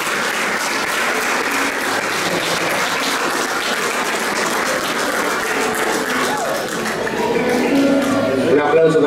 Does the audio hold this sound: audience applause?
yes